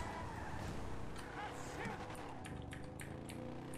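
Car driving in GTA 5, a steady engine drone with some tire noise running continuously at moderate level, with a voice talking over it.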